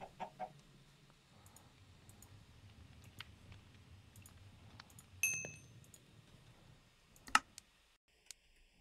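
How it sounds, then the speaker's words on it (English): Minecraft chickens cluck softly in a hardcore survival world, version 1.19, with scattered quiet clucks and clicks, a few sharper game blips and pops over a low, near-silent background. "I have a chicken. I have two chickens."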